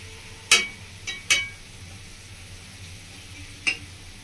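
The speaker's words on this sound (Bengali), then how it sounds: "খুন্তি দিয়ে ঠিক এইভাবে সমান করে নেবেন ওপরটা" A metal spatula scraping and smoothing a sandesh sweet mixture in a pan, four sharp clinking scrapes, three close together then one later, over a quiet low hum.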